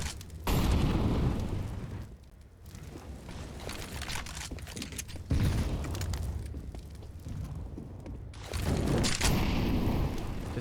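Pistol gunfire during a Counter-Strike match on the Vertigo map, heavy bursts of shots and booming impacts arriving in three loud waves separated by quieter stretches.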